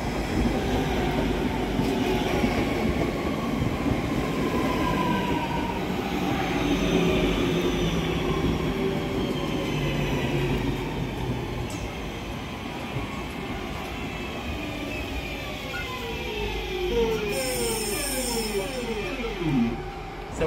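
Class 323 electric multiple unit running on the Cross City line, heard from on board as a steady rumbling roar of wheels and motors, with a rising whine near the end.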